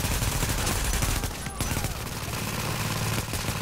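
Continuous heavy gunfire from Tom Clancy's The Division, dense bursts and rapid shots blending into a loud, unbroken barrage with no spoken words.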